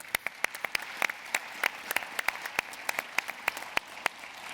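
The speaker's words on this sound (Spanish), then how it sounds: "Un aplauso, por favor, para Roque." An audience at a mining conference gives a speaker a round of applause, crisp claps from a modest crowd sounding moderately close and fairly quiet, with no voices over it.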